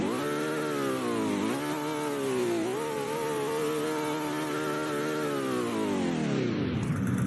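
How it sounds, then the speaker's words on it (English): A Ferrari engine revving: a buzzing, harmonic engine note that climbs and falls through several throttle blips and then drops away at the end, steady and fairly close, with no talking. "we can also rev the car,"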